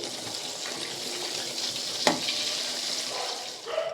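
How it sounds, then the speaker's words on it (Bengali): Khaja pastries made from wheat flour fry in hot oil with a dense, steady bubbling sizzle, close and continuous, broken by one sharp knock partway through. "বাকিগুলোকেও আমি ভেজে নিচ্ছি"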